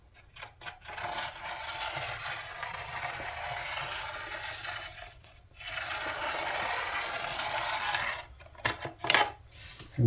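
A pencil rolling along with a washer traces a curve on the body of a Teisco EB-200 / Silvertone 1438 bass guitar, making a close, steady dry rubbing scrape that pauses briefly midway and ends in a few scattered taps.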